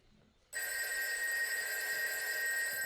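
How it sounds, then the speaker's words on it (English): A telephone rings in a scene from The Walking Dead, a loud, sustained electronic ring that starts suddenly after a brief quiet moment and continues steadily without pause. "The phone can ring?"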